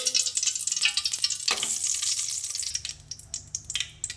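Ghee goes into a hot kadhai for suji halwa, giving a bright crackling sizzle with bursts and stirring clatter that fades and returns, close and fairly loud.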